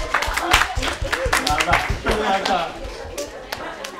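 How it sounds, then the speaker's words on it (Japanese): An audience at a Japanese fan event claps in a brief burst of scattered, uneven hand claps that thin out toward the end, mixed with a few voices. "はい、皆さん拍手。"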